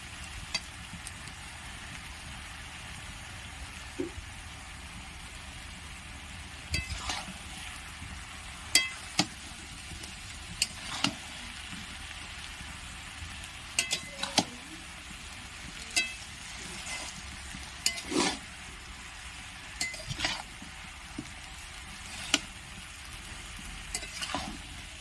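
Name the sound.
stirring mixed vegetable curry in a pot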